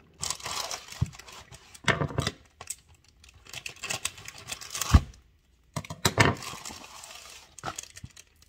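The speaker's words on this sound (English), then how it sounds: "We're gonna open the box" A cardboard pancake mix box is handled and opened in short bursts of crinkling, tearing and crumpling, with a few sharp clicks and quiet pauses between.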